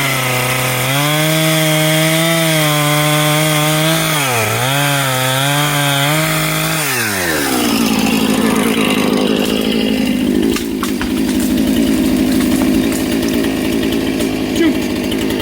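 Husqvarna chainsaw plunge cutting into a big hemlock tree in the Adirondacks, a loud, close engine whine that dips and rises under load, then shifts into a rougher, grinding cut as the bar bites through the wood.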